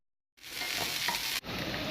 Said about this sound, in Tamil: இப்போது வெங்காயமும் கருவேப்பிலையும் சேர்த்துடலாம்